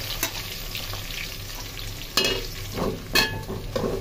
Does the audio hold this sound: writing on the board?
no